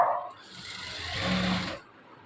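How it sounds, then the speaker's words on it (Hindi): Sewing machine stitching a lined straight pant, one short whirring run of about a second and a half, faint and alone. "सीधी साइड पर मैं सिलाई चला रही हूँ"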